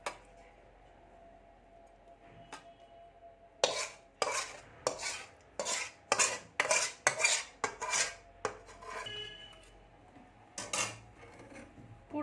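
A metal spoon scrapes and clanks against a pan as cooked potol (pointed gourd) curry is served out, a run of quick, close rhythmic scrapes in a quiet kitchen.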